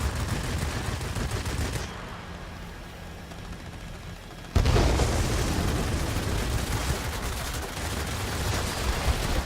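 Fighter plane machine guns fire in dense, sustained bursts in World of Warplanes, with a brief quieter lull before louder continuous gunfire resumes.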